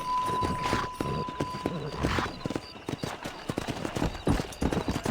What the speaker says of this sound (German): Wie steige ich auf mein Pferd auf?